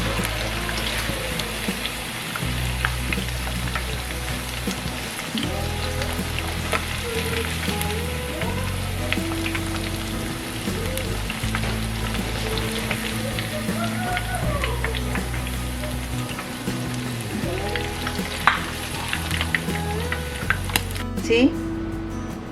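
The remaining half of the beef strips fry in hot oil for crispy honey chili beef, a dense, continuous close sizzle like heavy rain running steadily beneath background music.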